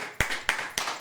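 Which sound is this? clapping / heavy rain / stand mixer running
clapping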